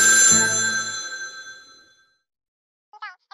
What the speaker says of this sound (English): and who might this be on the phone?